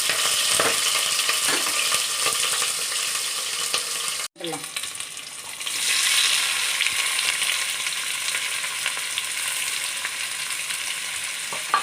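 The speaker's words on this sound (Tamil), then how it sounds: "இப்போ இதை நல்லா வதக்கலாம் நல்லா வதங்கி வரட்டும்" Green chillies sautéing in hot oil for prawn biryani, a steady close sizzle running throughout, with a brief stir and clatter near the start and the frying briefly swelling louder midway.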